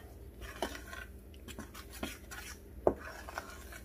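Pizza crust dough made from two ingredients, mixed by hand in a bowl, with soft rubbing and scraping and a few light knocks, quiet and close.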